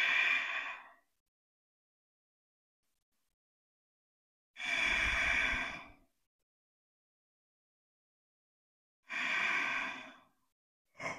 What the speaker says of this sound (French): Une respiration plus consciente, plus profonde et respirez.